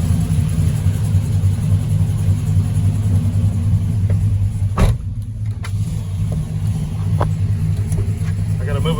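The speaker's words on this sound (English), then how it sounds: "Yeah, it's idling steady though, that's something." A Chevrolet Silverado pickup with a Cadillac engine conversion idles steadily, a constant low rumble filling the whole stretch, with a brief clunk midway and no voices.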